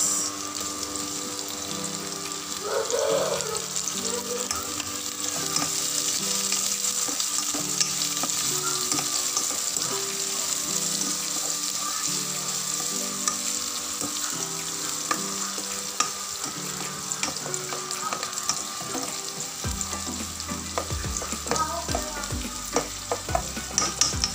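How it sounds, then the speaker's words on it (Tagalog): Onions fry in a pan with a continuous, fairly loud sizzle, stirred now and then, and a low mechanical hum runs underneath while the dish cooks. "So, ilagay na natin yung sibuyas."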